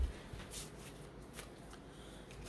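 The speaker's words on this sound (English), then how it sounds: "So you shuffle them like so," Tarot cards being shuffled by hand, a soft papery riffling that runs steadily through the short stretch at a quiet level, with no talking over it.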